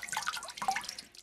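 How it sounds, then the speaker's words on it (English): Water runs from a bath faucet, a soft close trickling and splashing that lasts a little over a second on its own. "do you think I should turn off the faucet?"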